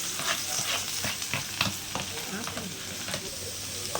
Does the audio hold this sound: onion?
yes